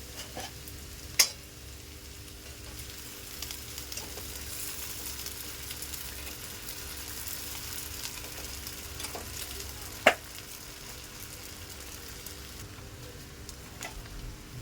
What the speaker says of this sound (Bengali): খুব ভালো ভেজে নেব আমি